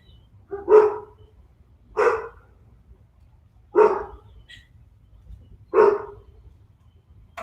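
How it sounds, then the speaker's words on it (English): A dog barks loudly outdoors, four separate bursts at roughly even spacing, each one close and strong above a quiet background. "Can y'all hear that dog barking?"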